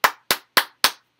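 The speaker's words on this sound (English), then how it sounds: "Give him some more claps, y'all." Four sharp, evenly spaced hand claps in a row, close and fairly loud, each ending quickly with no other sound between.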